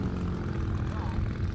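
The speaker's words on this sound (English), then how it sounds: "1 engine out of 4 still running." A scale model Boeing 747 flies with only one of its four engines running, making a steady, fairly faint drone with broadband wind-like rushing and a voice mixed in.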